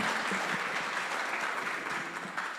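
A room full of people at a community dialogue gathering breaks into steady, dense applause, a continuous wash of clapping that holds at an even level throughout with no voices on top.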